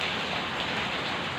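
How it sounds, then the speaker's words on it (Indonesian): Steady rain falls at night during the Indonesian rainy season in December, a loud, unbroken hiss of drops close by with no voices. "Ini malam-malam ya, malam-malam cuaca hujan."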